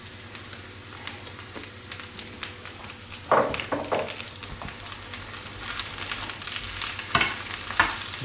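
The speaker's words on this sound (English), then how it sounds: "And give it all a stir around." Mushrooms sizzle in olive oil in a frying pan while being stirred, with a steady crackling fry broken by scraping and clattering stir strokes, close and fairly quiet.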